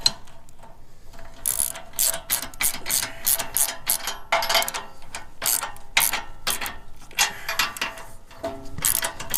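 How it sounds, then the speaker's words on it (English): A ratchet is cranked to tighten down a motorcycle rear carrier rack, giving rapid bursts of sharp metallic clicks in quick repeated strokes with short pauses between them, loud and close with no talking. "I'll just tighten this down, and that'll stop any movement in it"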